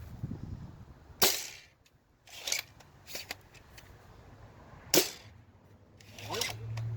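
A Worker Caliburn foam dart blaster loaded with red darts fires outdoors in fading light, giving a few sharp, near pops spread across several seconds amid faint rustling and handling noise.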